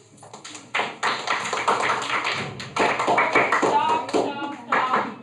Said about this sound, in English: Can we clap for group B?